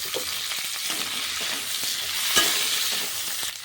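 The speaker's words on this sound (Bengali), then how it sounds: "সিমগুলো একসঙ্গেই কিন্তু আমি সবগুলো ভেজে নেব।" Sliced potatoes and flat beans fry together in a pan for a prawn dish, producing a steady close-up hiss and sizzle with light stirring scrapes and a brief louder clack midway.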